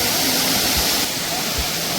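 A waterfall in Brazil pours as a steady, broad rushing roar close by, with a couple of faint low thumps.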